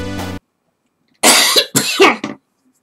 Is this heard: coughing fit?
yes